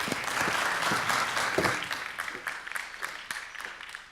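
Steady audience applause for a speaker at a game industry business conference, a dense patter of clapping that gradually thins and fades over a few seconds.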